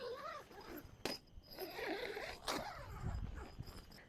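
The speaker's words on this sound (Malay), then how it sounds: "Dia nak sambungkan dia pakai zip" A zipper draws shut to join the awning extension to a Blackdog Misty Island tent outdoors, making a few short rasping pulls close by while a person talks over them.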